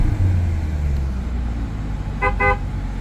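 The 6.2 liter V8 of a 2021 Chevrolet Corvette Stingray 2LT rumbling steadily with a deep, loud low-end drone, while two short honks sound near the end.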